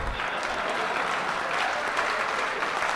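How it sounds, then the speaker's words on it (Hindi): Steady audience applause fills a hall at a Hindi poetry recital, many hands clapping continuously and fairly loud for the whole stretch, with no speech over it. "ताली बजा"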